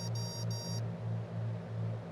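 A cockpit warning in a Piper Arrow III during a storm flight over the Rockies in Microsoft Flight Simulator 2024: two short, bright electronic beeps in quick succession over a steady, low engine drone, then the drone continuing alone.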